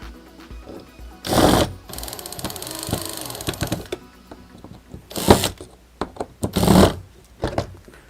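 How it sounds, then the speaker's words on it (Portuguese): Wood screws with washers driven into a wooden lamp base by a whirring power driver in several bursts, separated by clicks and handling knocks, close and fairly loud with no speech. "Vamos fixar usando alguns parafusinhos para madeira com umas arruelas."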